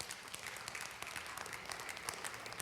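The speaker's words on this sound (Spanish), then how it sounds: "Dale un aplauso a mi Señor." A church congregation claps together during a Spanish-language sermon, a fairly faint, distant burst of dense applause holding steady throughout.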